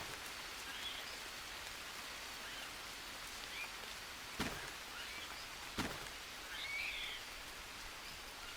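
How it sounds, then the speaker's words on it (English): Steady rain hisses over the jungle in Green Hell, a soft continuous patter with two brief sharper knocks partway through and a faint brighter rustle near the end, moderately quiet throughout. "I'll leave the coconut bowls on the wing here to collect water while it's raining."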